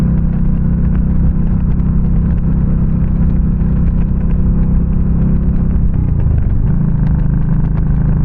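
A Yamaha V Star 1300 Deluxe motorcycle cruises at speed in one gear, its loud steady engine drone and wind roar continuous and close, with a slight shift in tone near the end.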